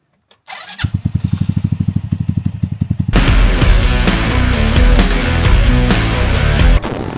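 Boat engine on a Bali 48 catamaran with a suspected fuel problem being restarted after stalling: a rapid rhythmic starter cranking for a couple of seconds, then the engine catching and running loud and steady nearby.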